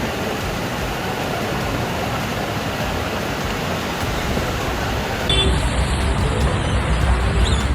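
Heavy monsoon rain falls as a loud, continuous, steady downpour hiss that grows slightly louder partway through, with no voices.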